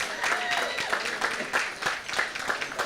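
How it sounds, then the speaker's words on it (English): An audience applauds the owners of the Santana facility at a Brockton gathering, a dense, steady patter of many hands clapping at close range for about three seconds. "let's give the owners of the Santana facility a round of applause"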